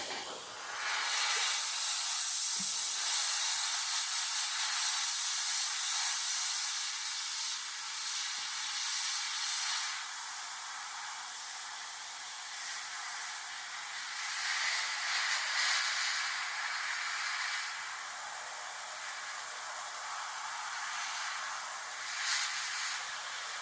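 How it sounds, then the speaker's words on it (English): An airbrush sprays paint onto a 1/48 Tamiya Bf 109 E-3 scale model, producing a steady, close, airy hiss that runs continuously with slight swells and dips in strength. "And then I'll come in and I'll mask off these green, or this tan area, and then I'll spray down that green color."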